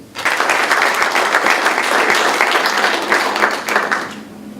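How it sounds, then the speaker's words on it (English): Loud, dense applause from a dinner audience at a leadership transition event, sustained evenly for about four seconds before tapering off. "A round of applause, please."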